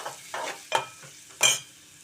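Sliced onions and green chillies fry in oil in a pan, with three or four short, bursty scraping strokes of stirring over a faint sizzle.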